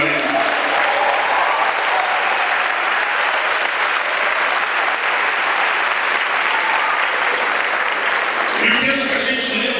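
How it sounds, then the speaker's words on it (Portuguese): A church congregation applauds loudly and continuously during a Hosana Cristo 2013 service, with a voice rising over the clapping near the end. "Dê um aplauso ao Guilherme de Júlio."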